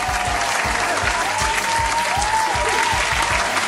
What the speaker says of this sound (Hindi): एक दफा फिर जोरदार तालियां हमारे आज के विनर के लिए, जो हैं हैरी।